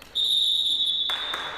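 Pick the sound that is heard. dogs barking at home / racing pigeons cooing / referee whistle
referee whistle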